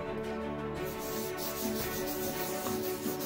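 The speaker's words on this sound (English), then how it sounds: "Scrubbing" Scrubbing hard on a wall painted with Emerald paint, a steady rough rubbing that carries on continuously and close, with no talking over it.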